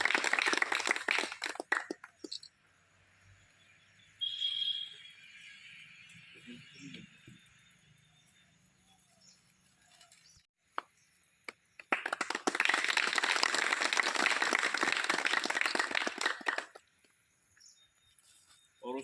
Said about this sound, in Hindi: जोरदार तालियों से हमारा स्वागत करें